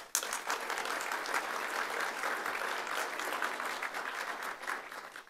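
Banquet audience at a Chinese New Year appreciation dinner applauds steadily, a full, even patter of many hands clapping from a moderate distance that continues throughout without letting up.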